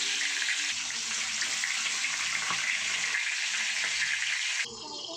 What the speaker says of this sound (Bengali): তো আমি এর মধ্যে এবারে মশলা মাখানো চিকেনগুলো ছেড়ে দেব।